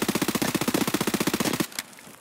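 Automatic gunfire from a weapon in the video game Escape From Tarkov, a rapid, loud, evenly spaced burst of roughly twenty shots that stops abruptly, leaving a brief fading tail.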